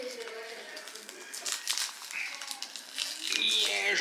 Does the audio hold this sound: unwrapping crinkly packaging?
yes